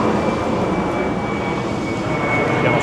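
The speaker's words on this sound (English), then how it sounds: "planes flying out around here because we're not that far from LaGuardia Airport" A low-flying airplane near LaGuardia Airport drones steadily overhead, a loud continuous broadband roar over the street with a faint high whine throughout.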